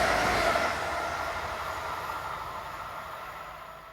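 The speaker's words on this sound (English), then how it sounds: "Unit 44301 is seen once more, working the 1241 from Würzburg to Treuchtlingen." A passenger train, unit 44301 on a Würzburg to Treuchtlingen service, rolls past with a broad rushing rumble and a faint high whine, fading steadily as it recedes.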